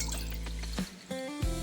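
Water is poured into a pot for a homemade morning health drink, a short, fairly faint splashing fill that dies away into quiet dripping.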